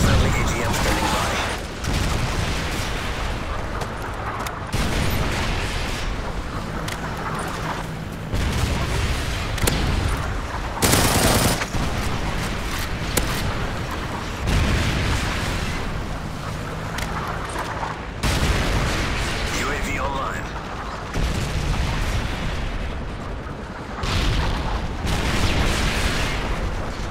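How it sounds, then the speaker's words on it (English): Sustained battle din from Modern Warfare 3 multiplayer, with a Predator missile strike landing amid continuous gunfire, booming impacts and bursts of automatic fire, loud and dense across the whole stretch with brief sharp blasts standing out. "Friendly Predator missile inbound"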